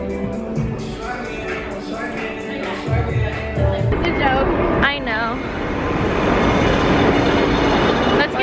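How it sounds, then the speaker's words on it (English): A New York subway train rumbles and clatters steadily with wheels squealing, people talking over the noise throughout. "We are about to take the subway."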